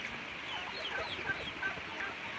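Chickens clucking and murmuring in a coop, including a golden laced Wyandotte cross, a steady close chorus of overlapping calls with no talk.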